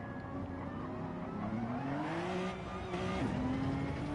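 Race car engine revving in Gran Turismo on a long-straight track modelled on Deep Forest, a steady droning engine tone climbing in pitch through the gears with a sharp drop near the end before rising again, continuous and fairly loud.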